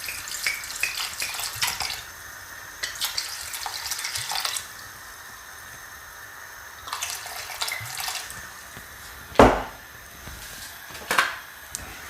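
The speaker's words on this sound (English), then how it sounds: "I'm just putting in about half a bottle." Red wine, about half a bottle, pours into a pan of poached pears with damson, giving bursts of splashing liquid between quieter stretches and a few sharp clinks near the end, close and without talk.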